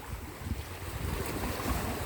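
Strong sea waves surge and wash near a speedboat off Basalt Island, a steady, churning roar with low thumps of water and buffeting wind noise, close and continuous with no voices.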